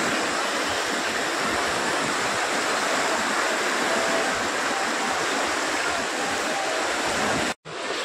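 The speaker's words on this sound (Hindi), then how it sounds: "जल का बहाव देख रहे हो घाट पे देखो कितना ज़्यादा है" The Ganges flowing fast and high past a ghat at Haridwar at night, a loud, constant rushing roar of water that fills the whole scene without a break.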